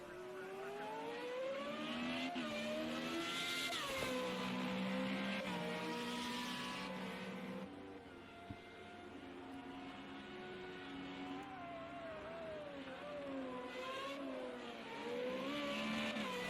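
FR35 formula race cars lapping Imola circuit, engines whining and rising and falling through gear changes as several cars pass, a continuous close mechanical roar throughout with commentary underneath.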